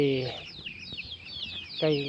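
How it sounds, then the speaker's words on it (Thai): A chicken gives short clucks at the start and end, with rapid high peeping chirps in between. "นี่คือไก่"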